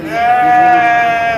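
A single long, loud goat bleat at a livestock market in Gudur, a steady wavering cry held for over a second, close by.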